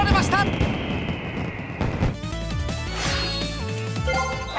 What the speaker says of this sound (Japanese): さあ夜空高く花火が打ち上げられました。